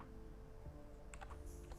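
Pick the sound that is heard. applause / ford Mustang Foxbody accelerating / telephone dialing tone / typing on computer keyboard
typing on computer keyboard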